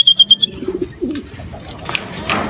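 Racing pigeons arrive at the loft during derby training, giving a quick burst of sharp chirps and then a soft coo, all brief and close.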